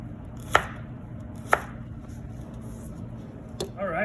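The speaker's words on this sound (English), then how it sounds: "And then we simply cut right across at an angle." Knife cutting celery on a cutting board at an angle: three crisp, separate chops about a second apart, up close in a quiet kitchen.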